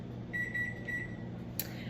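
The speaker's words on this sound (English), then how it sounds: "Oh, that is our quinoa timer." A kitchen timer beeping while quinoa cooks, two short bursts of high electronic beeps, clear and close, followed by a brief clatter; no one speaks.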